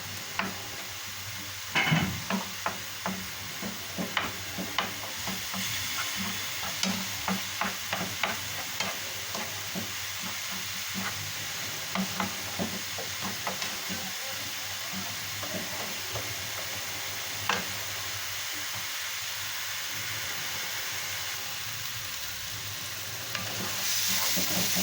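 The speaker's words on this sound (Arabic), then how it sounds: "كنبقى نقلب في ديك البصله ديالي حتى كتشد ليا اللون ديالها جيدا" Chopped onions sizzle steadily in a frying pan while a utensil stirs them with repeated scraping taps, a continuous close fry under the clicks, with no talking.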